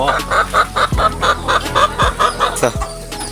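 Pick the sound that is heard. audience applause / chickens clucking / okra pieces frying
chickens clucking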